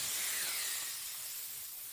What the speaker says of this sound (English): Bug spray.